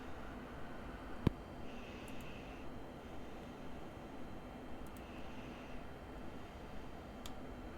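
A small aircraft engine drones steadily in Microsoft Flight Simulator 2024 as power is pushed up, a faint, even hum with a soft click and a couple of brief tones over it.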